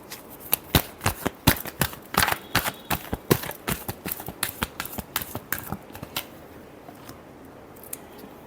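A deck of tarot cards is shuffled by hand in a quick run of crisp riffles and snaps, close and clear, with the strokes spacing out and thinning toward the end.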